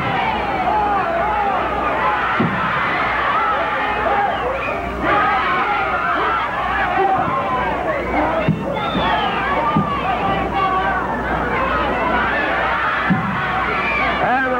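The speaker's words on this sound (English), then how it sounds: "As you can hear the crowd yell, come on, Raymond, come on, Alberto." A 1960s professional wrestling crowd, with a tag team match underway, yells and cheers in a dense, continuous roar of many voices, with chants and shouts rising and falling, and a commentator talks over it.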